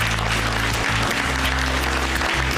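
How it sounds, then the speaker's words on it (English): An audience at a charity fundraising event claps enthusiastically in a dense, steady burst of applause that fills the room, with a low hum underneath. "so a round of applause for yourselves."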